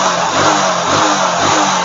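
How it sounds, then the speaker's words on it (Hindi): A Hero Splendor motorcycle engine runs loud and close, revving in a few quick surges over a rough, pulsing idle. "बाइक 16 में स्टार्ट ले रहा है देखो, और बाइक में पिकअप इतना पिकअप है और कहीं मिसिंग भी नहीं है देखो"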